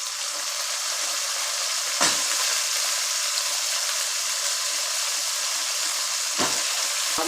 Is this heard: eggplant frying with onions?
yes